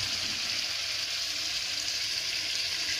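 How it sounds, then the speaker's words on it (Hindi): Chicken frying in a pan with ginger garlic paste and onions, a continuous bright sizzle holding steady throughout at moderate loudness with no voices. "अभी हम इसमें अदरक लहसुन का पेस्ट डालते हैं और हम चिकन डालते हैं और इसको अच्छी तरीके से 15 से 20 मिनट भूनते हैं।"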